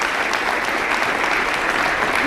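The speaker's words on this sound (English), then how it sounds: "Give yourselves a round of applause for that." Audience applause at the 2016 State of the District address in Washington, DC, a dense, steady wash of clapping from a large crowd that holds even and loud throughout.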